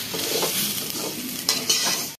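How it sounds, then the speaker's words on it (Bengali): Daliya is stirred in a kadai, producing a loud close sizzle with repeated scraping strokes and a couple of sharper clinks before a sudden cutoff near the end. No one talks. "এবার পুরো ডালিয়াটা দিয়ে দেবো আর ধরে নাড়াতে শুরু করে দেবো"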